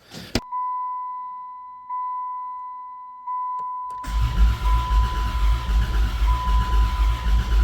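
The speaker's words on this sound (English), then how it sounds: "Let's crank it over with some full juice." A 1991 Dodge Grand Caravan SE, sitting unrun for years, gives a few dashboard warning tones before its starter cranks the engine over loudly and rhythmically near the microphone, a steady repeating chug lasting several seconds.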